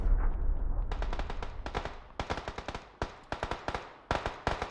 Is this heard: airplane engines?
no